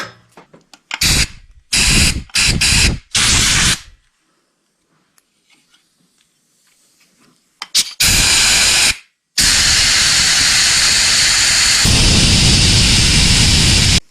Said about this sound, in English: So I'm just going to blow some compressed air through this.